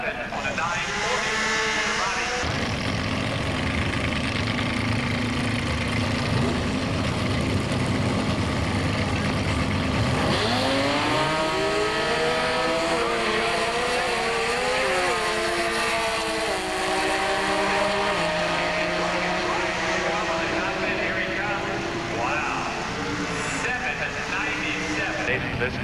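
A Comp Eliminator drag race car runs at the 1990 Spring Nationals during qualifying, its loud engine droning steadily before revving up with rising, wavering pitch about midway, continuous throughout.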